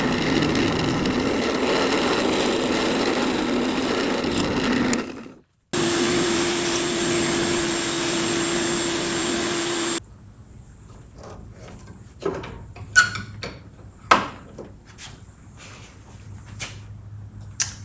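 A power drill drives screws through metal sockets into wood, its motor whirring steadily in two long runs, then giving way to quieter scattered clicks and knocks.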